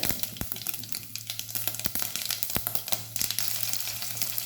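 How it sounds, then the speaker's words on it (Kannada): Mustard seeds and cumin splutter in about three tablespoons of hot oil in a pan, making a close, continuous sizzle punctuated by sharp crackling pops at irregular intervals. "ಅದಕ್ಕೆ ಒಂದು ಮೂರು ಟೇಬಲ್ ಸ್ಪೂನ್ ಎಣ್ಣೆ ಹಾಕಿದ್ದೇನೆ ಸಾಸಿವೆ ಸ್ವಲ್ಪ ಜೀರಿಗೆ ಸಾಸಿವೆ ಜೀರಿಗೆ ಎರಡು ಚಟಪಟ ಆದಮೇಲೆ"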